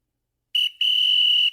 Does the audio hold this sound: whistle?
yes